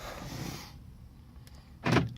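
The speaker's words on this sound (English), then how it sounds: "Unlocks the doors, locks the doors," Quiet mechanical whirring fades out, and near the end a short, sharp clunk sounds close by as a Mercedes-Benz C280 4Matic's door locks actuate by key fob.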